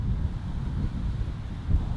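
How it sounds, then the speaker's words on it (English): Wind gusts buffet the microphone on a fishing outing, a continuous low rumbling roar with a stronger gust near the end, no voices. "You hear that wind?"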